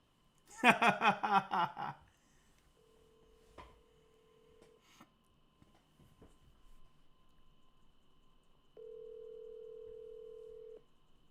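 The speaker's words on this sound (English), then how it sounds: "Come on, AC, answer the phone." An outgoing phone call rings: two long, steady ring tones separated by quiet, with a brief burst of sound before them.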